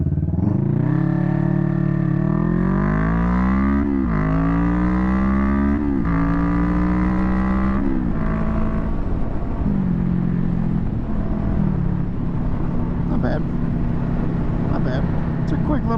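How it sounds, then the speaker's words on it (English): A 2021 Kawasaki Vulcan S motorcycle accelerating hard through the gears: the engine note climbs repeatedly and drops at each shift, loud and close, then settles into a steady drone with wind noise. "It's a quick little bike. Gets up to 60 miles an hour in 5-6 seconds"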